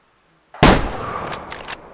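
A rifle shot fired at a whitetail deer in the hunting game Way Of The Hunter: one sudden loud crack after near silence, with a rolling echoing tail that fades over a second or so.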